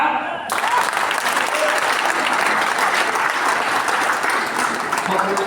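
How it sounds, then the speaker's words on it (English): Audience applause at a political symposium, a dense sustained wash of many hands clapping that starts abruptly after a brief pause and holds steady and loud throughout. "Can we clap?"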